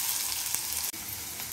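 Close, continuous sizzling of large onion frying in hot oil with fennel seeds, cinnamon and clove, with a brief clink of stirring partway through; no voices.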